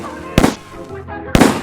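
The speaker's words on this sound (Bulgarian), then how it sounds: "Вземем фойерверки. И тия фойерверки ги удрите към тия очи." Two sharp, loud firework bangs go off about a second apart, close by, with voices and background chatter heard between them.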